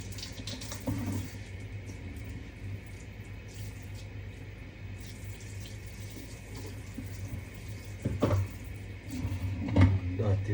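Tap water runs into a kitchen sink while it is being cleaned during home cooking of Jamaican jerk chicken, a steady close rush with some clatter and splashing, a voice talking over it at times.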